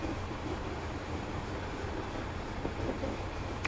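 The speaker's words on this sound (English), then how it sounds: "this is definitely up there with one of my favourite trains for noise" Train noise from Train Simulator 2021 on the Weardale and Teesdale line: a steady, loud broadband rumble and rolling drone with no pauses, heard alone with no voices.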